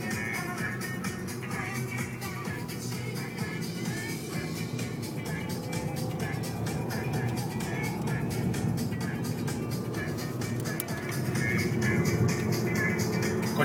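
Supercharged 333 hp Audi A6 driving, its engine a steady, continuous drone with road and cabin noise, fairly loud and constant throughout, swelling slightly near the end.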